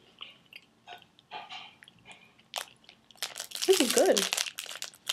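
Someone chews a crunchy pineapple coconut nut snack, with loud, close crunching and crinkling that builds in the second half after quiet talking at the start.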